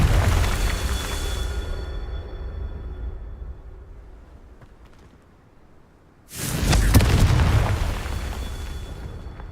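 Confringo fire spell blasts in the video game Hogwarts Legacy: a loud booming explosion fading over a few seconds, then a second sharp, louder blast bursting in near the end, with no talk.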